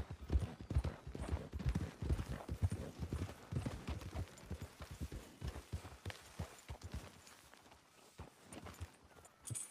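Horses gallop in the video game Red Dead Redemption 2, with dense rapid hoofbeats close by that ease off toward the end. No one talks over the hoofbeats.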